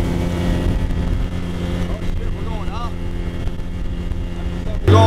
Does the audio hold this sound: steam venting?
no